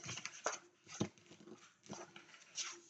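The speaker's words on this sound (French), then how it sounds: "Et il y a toujours les chiens des voisins." The neighbours' dogs yap faintly in the distance, a few scattered short high-pitched barks spread across a quiet background.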